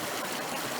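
A creek flows steadily on a wooded rural lot, a continuous close broadband rush of running water with no voices or breaks.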